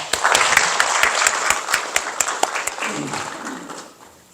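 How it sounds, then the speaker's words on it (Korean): Seminar audience applauds to welcome a Buddhist monk as discussant, a dense round of clapping with a few sharp individual claps standing out, fading away toward the end. "박수로 환영해 주시죠"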